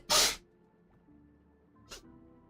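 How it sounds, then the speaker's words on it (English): A woman lets out one sharp, loud sneeze at close range, followed by a quieter second burst about two seconds later, with near silence between. "I had to sneeze."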